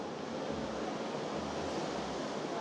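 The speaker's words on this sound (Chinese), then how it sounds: "海的声音。" Black Sea waves wash onto the beach at Varna, Bulgaria, as a soft, continuous surf hiss heard faintly and steadily with low rolling swells underneath.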